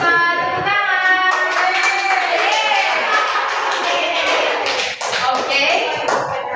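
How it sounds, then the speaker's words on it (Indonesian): Students in a classroom clap together, a close burst of hand claps and taps mixed with overlapping voices and chatter. "Tepuk tangan."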